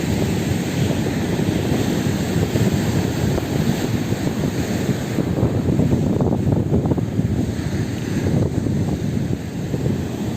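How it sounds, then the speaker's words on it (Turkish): Rough winter sea waves crash against the shore and the steps of a pier on the Ayancık coast, a loud, steady broadband roar that never lets up. "Hemen karşımızda şimdi dalganın vurup da yükselmesini yakalayabilecek miyiz bakalım."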